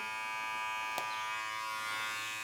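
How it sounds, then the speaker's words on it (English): An electric hair clipper buzzes steadily while cutting hair for a flattop mullet. The hum is constant and fairly quiet, with one brief snip-like click near the middle, and no one speaks. "keeping the comb and the clipper center mass to my sternum"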